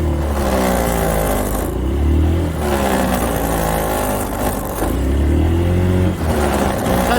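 Honda Forza 350 scooter engine vibrating while being ridden, with a loud, continuous mid-pitched drone that surges under the throttle, eases off, then rises again.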